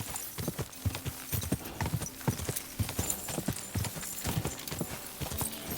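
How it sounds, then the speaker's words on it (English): Rapid hoofbeats of a galloping horse in the video game Kingdom Come: Deliverance 2 clop steadily and closely throughout, with a faint whinny in the background. "Oh yeah, a horse galloping."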